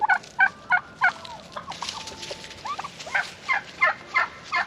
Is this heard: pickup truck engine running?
no